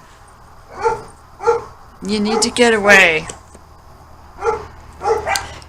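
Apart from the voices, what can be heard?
dogs barking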